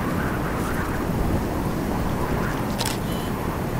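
A thunderstorm rages in the video game Storm Chasers, a dense, continuous roar of wind and rain with deep rumbling, joined briefly near the end by a short sharp burst.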